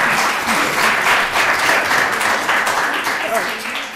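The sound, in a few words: audience applause for a teacher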